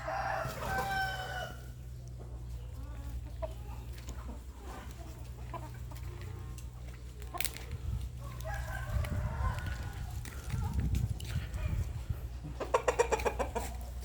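Burmese chickens in a garden pen call out, with clucks and crowing bursts from several birds over a low steady hum, moderately close and fairly faint.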